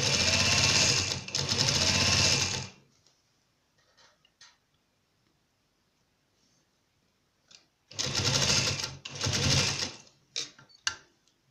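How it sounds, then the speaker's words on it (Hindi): Sewing machine stitching a designer trouser, running loud in two bursts of steady whirring near the start and again toward the end, separated by a quiet pause with faint handling clicks. "सिलाई लगाएं"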